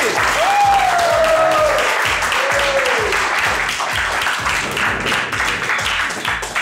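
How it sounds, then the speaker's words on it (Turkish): Loud, sustained applause from a studio audience at a Turkish television dating show, a dense wash of clapping running the whole time with a couple of brief whistles or cheers rising above it. "Büyük bir alkış alabilir miyiz?"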